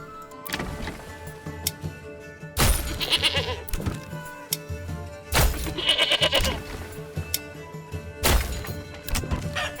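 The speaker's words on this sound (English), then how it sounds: "so we'll throw in some goats and some chickens" Goats bleating in the medieval city-building game Manor Lords, three loud, wavering bleats spaced a few seconds apart over a background of soft clunks and farm ambience.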